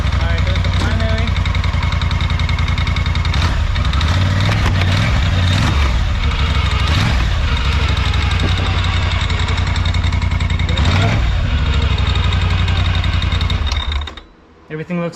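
A 2021 Polaris Sportsman 850 High Lifter ATV engine runs loudly and close during a clutch test, a steady droning rumble that revs slightly at times before cutting out near the end.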